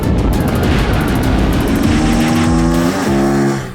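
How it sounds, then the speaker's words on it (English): A 2024 Honda Transalp XL750 with its 755cc 270-degree-crank parallel twin gives a loud, close exhaust note, holding a steady throb before the revs climb sharply near the end. "that mad top end, and this intoxicating exhaust note"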